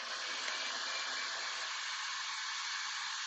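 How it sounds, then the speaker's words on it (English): A blow dryer pushes acrylic paint, including a dash of copper, across a Dutch pour painting, a steady hissing rush of air held evenly throughout at moderate distance. "turn on my blow dryer"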